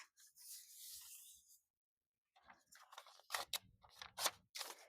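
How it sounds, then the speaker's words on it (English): A strip of adding machine tape is folded in half, giving soft papery rustles and crinkles, first a brief swish, then a pause, then several sharper crisp creases and rubs close by. "You're going to fold it in half."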